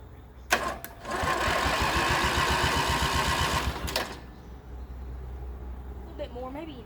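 Small yard machine engine, freshly cleaned and sprayed with brake cleaner, sputters and runs with a rapid rattling putter for about three seconds, then cuts out, leaving quieter background.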